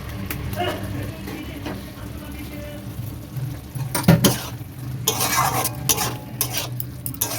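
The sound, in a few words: stirring chicken bharta with dried fenugreek leaves in pan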